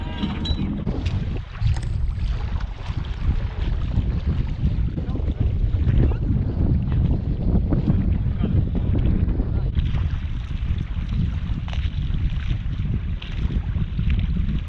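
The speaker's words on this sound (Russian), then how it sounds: "Особенно, когда есть такой катер у ребят." A motorboat runs along a river in Yakutia, its engine drone and rushing water and wind buffeting the microphone in a steady, loud wash, with people speaking intermittently over it.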